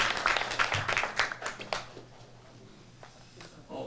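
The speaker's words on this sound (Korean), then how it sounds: "한번 서로를 한번 박수하고요" People at a gathering clap for one another in a short burst of applause that fades after about two seconds, leaving faint room noise with a few scattered claps.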